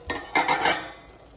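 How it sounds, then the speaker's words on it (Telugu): A spoon turns a softened brinjal, potato and tomato curry in a pan, making a few quick scraping clinks in bursts over about half a second, close and moderately loud, then fading into quiet. "ఇప్పుడు అలాగా కూరని తిప్పుకోండి"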